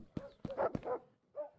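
Dogs bark in the video game Drug Dealer Simulator, three quick barks close together and then a softer fourth after a short pause, moderately loud with no talk over them.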